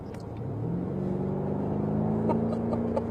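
A 2018 BMW M5 engine in sport mode accelerates hard, with a steady rising rev drone that climbs in pitch over a few seconds. It sounds loud and continuous, with no talk.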